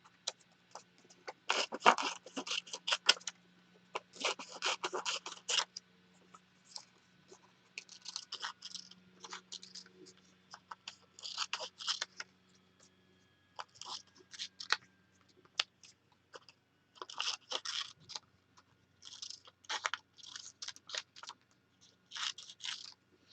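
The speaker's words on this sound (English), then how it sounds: "let's go ahead and cut some petals again." Scissors snip through Tyvek sheet to cut out flower petals, producing faint, close, crisp crunching cuts in irregular clusters with quiet gaps, with no talking over them.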